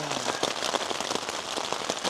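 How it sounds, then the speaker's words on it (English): Rain drums on a shelter built from packing material during a storm, a close, dense patter of drops that keeps up unbroken with no one speaking. "Nothing quite like the sound of just the rain hitting."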